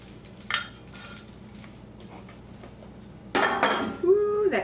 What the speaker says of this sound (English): I'm just breaking the meat up in here